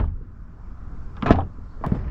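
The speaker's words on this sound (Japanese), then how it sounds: "ドアを閉める音も気に入ってます。" An Abarth 500's door shuts with a solid, firm thud, followed about half a second later by a second, softer closing knock, both heard close up with no talk.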